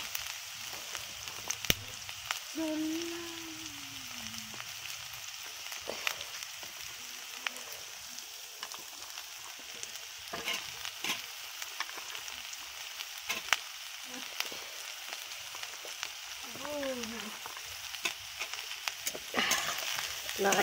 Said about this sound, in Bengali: হালকা একটু নাড়াচাড়া করে নিই।